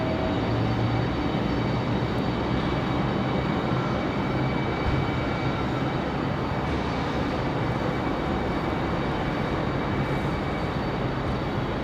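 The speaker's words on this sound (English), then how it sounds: "we got a CRJ finally leaving" A CRJ regional jet departs at Raleigh-Durham airport, its engines giving a loud, steady broadband roar that holds evenly throughout at some distance.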